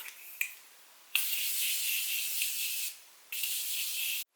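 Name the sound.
makeup setting spray being sprayed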